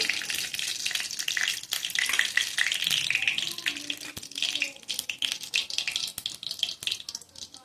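Cumin seeds hitting hot oil for an okra dal, a bright crackling sizzle that spits and pops irregularly, close and fairly loud, fading into sparser crackles.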